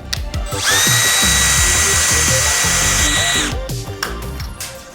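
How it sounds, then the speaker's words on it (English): A power drill bores through the inner part of a rivet nut for an E-Ride Pro long seat kit, a loud steady whine lasting about three seconds, with metallic clicks and handling knocks before and after. "You're just basically drilling through the inner part to get the riv nut out"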